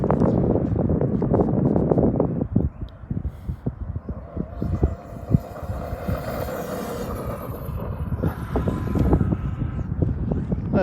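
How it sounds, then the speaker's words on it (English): Outdoor wind buffets the microphone steadily throughout during an RC boat run with an Outcast 8S and 1100kv motor on XLX2 firmware, a continuous low rumbling roar with gusty swells. "got a little bit of wind going here"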